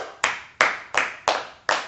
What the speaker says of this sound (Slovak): Potlesk, veľký, woo!